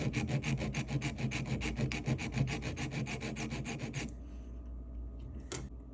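A hand file rasps on metal while a side stone box bezel for a three-stone ring is shaped, in a quick, even run of close back-and-forth strokes that stops abruptly near the end.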